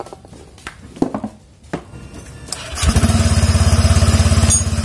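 Honda Vario injection scooter engine starting after a few brief taps and clatter, then settling into a steady, loud, close pulsing idle during a home service.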